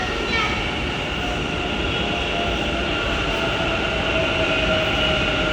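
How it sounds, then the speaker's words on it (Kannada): A Namma Metro train arriving rumbles steadily nearby, with a faint high squeal of wheels and a continuous mechanical roar throughout. "ನಮ್ಮ ಮೆಟ್ರೋ ಬಂತು"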